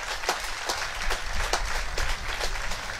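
An audience at a French pétanque final in La Talaudière applauds the volunteers, a moderate, steady patter of many hands clapping with sharper individual claps standing out at irregular moments.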